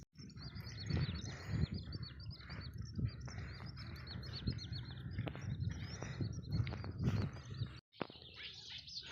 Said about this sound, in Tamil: குருவி அது இந்த சவுண்டு எல்லாம் கேட்குது பாருங்கள்.